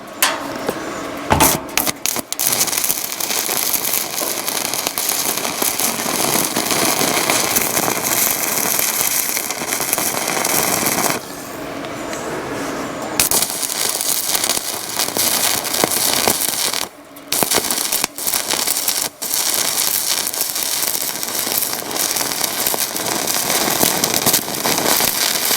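A cheap mini-welder strikes an arc as the electrode tip is rubbed to start it, giving a loud, steady crackling sputter that runs almost unbroken, with a few brief drop-outs where the arc breaks.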